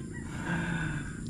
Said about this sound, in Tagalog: ang ingay ng mga manok dito